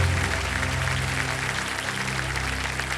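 Studio audience on the Kaun Banega Crorepati game show gives a sustained burst of applause, a dense, even roar of clapping throughout.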